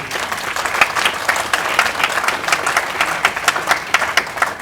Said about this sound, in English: I want each and every one of us to give him a resounding round of applause